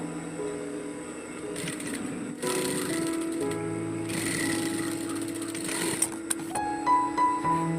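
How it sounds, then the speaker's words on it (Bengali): A sewing machine stitching a zipper onto a file cover bag, its steady mechanical whir running in bursts that start and stop, with a few sharp clicks and a faint hum between runs, close by. "ওই সেপারেট চেনটিকে উল্টো করে ধরে অপর সাইডে ওই একই রকমভাবে সেলাই করে নেব"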